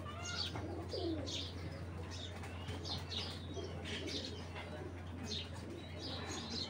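A male Jabra Beji pigeon with cut feathers coos faintly nearby, with soft chirps and brief wing flutters over a low steady hum.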